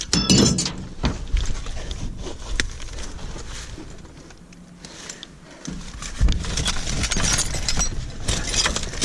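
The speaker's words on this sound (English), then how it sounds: "there's a bunch of broken glass that I'm getting into" Shards of broken glass clink and crunch while someone digs through a tightly packed dumpster, with scattered thumps and rustling throughout and a quieter pause midway.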